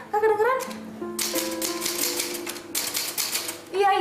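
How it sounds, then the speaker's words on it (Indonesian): Rapid clattering keystrokes of an old, rickety mechanical typewriter, loud and close, with a voice speaking briefly at the start and end. "Mesin tik tua ini penyebabnya. Udah reot, suaranya berisik banget."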